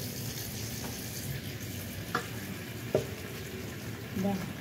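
Bamboo shoots being stirred in coconut milk in a wok, giving a soft steady simmer-sizzle with a few faint scrape and clink accents from the spoon, quiet and close throughout.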